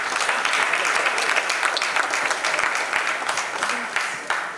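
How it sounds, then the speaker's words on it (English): Sustained applause from an audience at a Town Planners Day event of the Nigerian Institute of Town Planners, FCT Chapter, dense and steady for several seconds with scattered sharper claps and a little crowd noise mixed in. "A round of applause for him, please."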